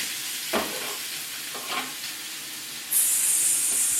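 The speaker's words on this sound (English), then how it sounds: "I'm about to put the chicken into the skillet. We should hear a nice little sizzle." Raw chicken pieces hit a hot skillet, with a few soft stirring scrapes before a sudden bright sizzle bursts up and holds loud and steady to the end, close by and without talk.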